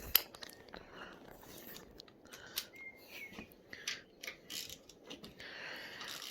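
A hand ratchet tightens bolts during a cambelt and trigger kit install on an RB25DET engine, giving quiet, irregular clicking and metallic ticks up close. No speech is heard.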